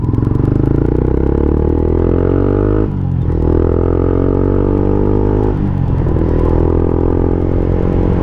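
A Yamaha Sniper 150 motorcycle fitted with an Mvr1 power pipe exhaust idles and revs close by, a loud, raspy, buzzing engine note that dips briefly twice between throttle blips.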